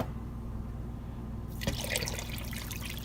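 Distilled water pours into a container for homemade common persimmon wine, a bright splashing and trickling stream that starts partway through over a low steady background hum, close and fairly quiet, with no talking.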